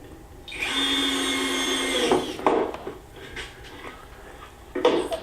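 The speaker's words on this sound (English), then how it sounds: "And screwing it onto the box." A power drill drives a screw to attach a bottom plate to a box during a hand planer conversion build, whirring steadily for about two seconds before stopping, followed by a few knocks and handling clatters.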